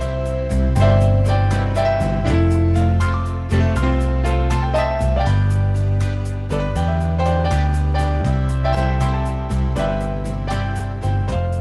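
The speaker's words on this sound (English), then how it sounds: "you're going to have Floyd's pianos with a drum variation starting at the instrumental" Steady piano chords over a repeating drum pattern, with the beat shifting into a varied rhythm partway through; full and continuous, no voices.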